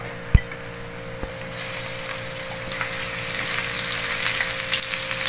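Garlic and onion fry in a pan with a soft, steady sizzle that gradually grows louder, broken early by a couple of sharp knocks from a utensil.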